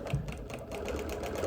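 A sewing machine quilting a show quilt with clear thread runs steadily up close, a fast continuous mechanical stitching hum with rapid needle pulses throughout.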